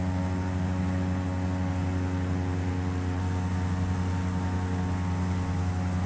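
A Carenado C208B Grand Caravan single-engine turboprop departs Eagle County in the Prepar3D flight simulator, a loud, constant propeller and engine drone holding steady throughout with no other sounds.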